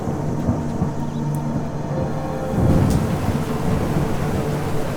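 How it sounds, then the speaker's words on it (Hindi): A thunderstorm with steady rain, a low rolling rumble of thunder swelling midway through, dense and continuous with no voices. "बाहर अभी भी तूफान चल रहा है और बिजली कड़क रही है।"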